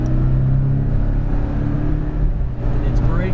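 A Porsche Cayman GTS on a race track slows under braking, its engine note a loud, steady low rumble that drops off near the end before climbing again, with a voice talking over it.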